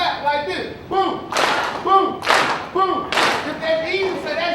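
A junior high school audience at a Black History Month celebration claps together on cue, several loud bursts of clapping spaced about a second apart, mixed with a leader's shouted voice.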